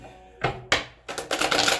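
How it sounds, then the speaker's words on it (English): A deck of tarot cards is shuffled up close in a few quick, crisp bursts of riffling and slapping, ending in a longer flutter of cards. "Let me shuffle this one more time."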